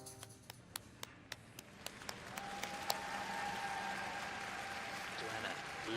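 Audience applause at a figure skating competition, beginning as a few distinct claps and swelling into steady, distant crowd clapping in an arena.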